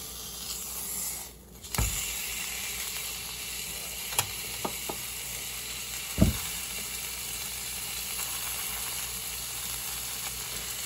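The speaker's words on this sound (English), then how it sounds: "Do you hear that steak though? That sounds freaking good." Steady hiss of steak sizzling in a hot pan, with a few sharp clicks and pops rising above the constant frying noise.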